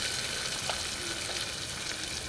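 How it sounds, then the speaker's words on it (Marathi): Tomato and onion sauté in a pan for veg pulao, giving a steady, close hiss of frying that stays even throughout with no voices. "आता टॉमॅटोसुद्धा एक मिनटं मी परतून घेते"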